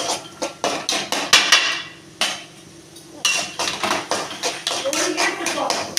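Chopped cabbage is stirred in a cooking pan for egg rice, with a quick series of sharp metal scrapes and clanks from a spoon, a short pause, then steady repeated clatter, close and moderately loud.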